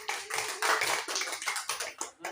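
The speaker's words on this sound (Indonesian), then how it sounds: "Tepuk tangan untuk Amel." Classroom audience clapping for a student after a practice-teaching presentation, a modest, uneven patter of hands in irregular bursts that thins out toward the end.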